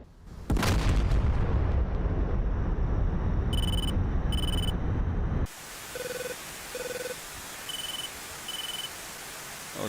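Explosions and heavy gunfire from the combat flight simulator DCS roar loudly and continuously for several seconds, then cut off abruptly, followed by a series of short repeated electronic warning tones.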